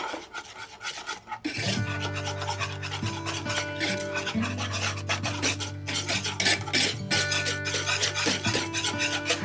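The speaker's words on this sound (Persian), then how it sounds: "مرتب هم بزنین که گوله نشه" Milk being stirred a little at a time into pastry cream mixture in a pot over heat, a steady rasping scrape under continuous background music.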